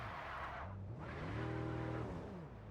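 A car in the video game MindsEye skids and revs, tires squealing over a rising and falling engine drone for a couple of seconds, loud and continuous, with no voices.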